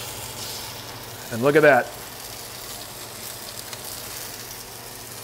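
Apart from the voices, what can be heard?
salmon searing in a Turbo Pot pan after flipping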